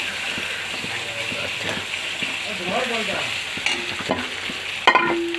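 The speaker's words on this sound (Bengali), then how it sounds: "এই আদা রসুন পেস্টটা দিয়ে দিলাম, দিয়ে নাড়াচাড়া করব।" Ginger-garlic paste sizzles steadily in hot oil in a pan while a spoon stirs it, scraping now and then; a continuous close frying hiss runs throughout, with a brief word spoken near the end.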